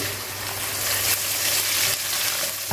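Steady, close sizzling of ginger and garlic paste frying in a hot pan, with a brief stirring scrape near the end and no talking.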